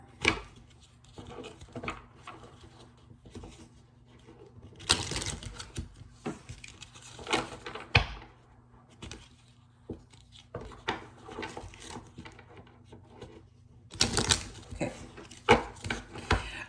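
Lenormand cards are shuffled by hand, giving soft scattered rustles and ticks punctuated by two louder bursts of riffling, close and otherwise quiet.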